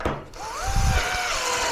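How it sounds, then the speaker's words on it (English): A Metabo GB18LTXBLQ cordless tapping drill reverses with a rising mechanical whine and gear ratchet, a brief click at the start, then a steady motor tone close by. "back the drill off and allow it to reverse"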